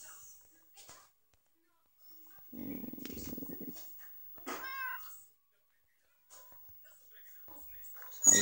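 Cats make a low rumbling purr-like burst followed by a short rising meow, quiet and sparse, with near-silence between the sounds and a sharp noise at the very end.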